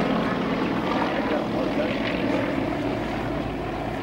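Propeller display aircraft flying overhead at an air show on a clear day, a steady loud engine drone that holds throughout without fading, with a faint voice under it.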